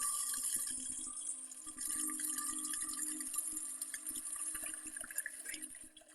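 Water runs steadily with a bright hiss in the video game Evil Nun, a continuous trickling stream that sounds slightly artificial, holding level and then fading at the end.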